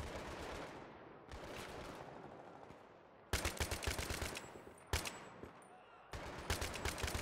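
Automatic weapon fire in the video game Battlefield 3, rapid loud bursts that stop and restart several times, each burst a dense string of close shots.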